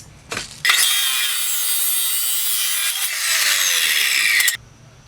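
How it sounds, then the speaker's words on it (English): An abrasive wheel saw cuts a 45-degree angle through steel stock, a loud, steady grinding screech lasting about four seconds that starts and stops abruptly between brief quiet moments. "when you're cutting a 45 with an abrasive wheel saw"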